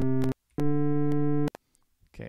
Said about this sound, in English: as you can hear, there's a lot of artifacting going on